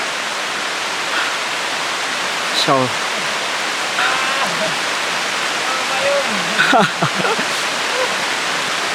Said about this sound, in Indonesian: Akhirnya hujan pun turun.